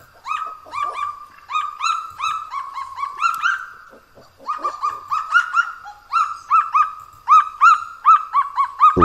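Birds give repeated loud, rhythmic calls in quick bursts, one after another, close and clear over a quiet background.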